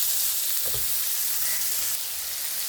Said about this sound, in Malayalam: നമ്മുടെ സവാളയുള്ളി ഇഞ്ചി എല്ലാം കൊണ്ടൊന്ന് വഴണ്ടിട്ടുണ്ട്